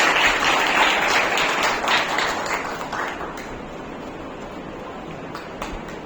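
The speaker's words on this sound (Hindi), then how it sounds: "2000 तालियां चाहिए" An audience applauds at an award ceremony for orators, a burst of dense clapping that starts loud and gradually thins and fades over several seconds.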